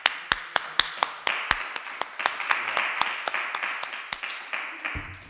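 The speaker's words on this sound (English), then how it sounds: "everyone can clap, can't they? Let's clap." A church congregation claps in unison, sharp and fairly close, in a steady rhythm of single claps that builds into fuller group clapping as more people join.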